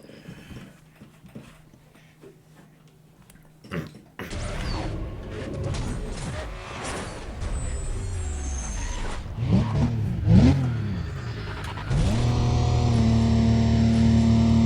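A racing car in Need for Speed: Undercover revs hard during a highway sprint race, its engine note rising and falling in sweeps before settling into a loud, sustained drone under game music and effects, with no talk.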